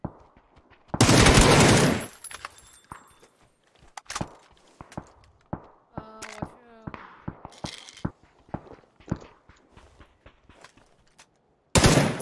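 Gunfire in a shooter video game, a loud burst of shots at the start and again at the end, with softer scattered shots, footsteps and clicks between, under a person talking.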